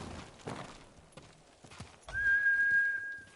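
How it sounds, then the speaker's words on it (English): A horse in the video game Ghost of Tsushima, heard as a few scattered hoof clops followed by a loud, drawn-out whinny close by, with no talking. "Horse!"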